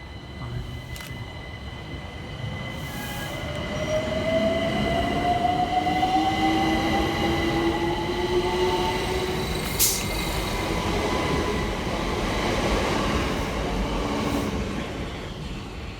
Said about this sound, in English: Departing next from the station is 378 140, working the 1639 London Overground service from West Croydon through to Highbury and Islington.